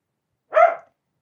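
One brisk bark from an elderly female dog named Dora, close by and standing alone in an otherwise silent room.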